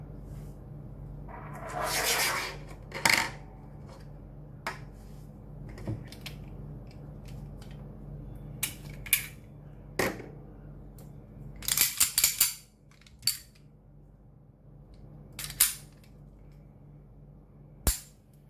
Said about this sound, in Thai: เริ่มแรกเดี๋ยวขอ เคลียร์ปืนก่อนนะครับ